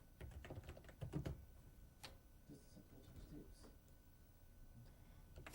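Keystrokes on a computer keyboard typing a title into PowerPoint 97, a short irregular burst of clicks followed by a few scattered taps, close and fairly quiet.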